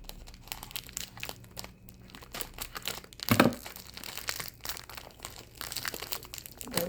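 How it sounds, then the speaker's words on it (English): Someone struggles to open an Oreo cookie pack, making quiet crinkling and rustling of the plastic wrapper, then a sudden louder tear partway through, followed by more crinkling. "Dumb packs never want to open. Just tear."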